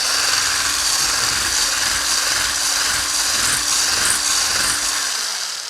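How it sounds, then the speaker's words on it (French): An electric whisk whirs steadily and loudly through a homemade whipped cream mixture for body and hair, a constant buzzing drone that slows and fades at the end with no talking. "Et je vais de nouveau fouetter."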